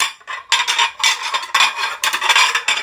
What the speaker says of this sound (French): tu fais plus de bruit que moi avec la vaisselle